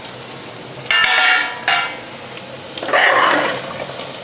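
Bursts of bubbling, hissing simmer rise and fall as goat intestine gravy boils in a pan, loud and close, with no voices.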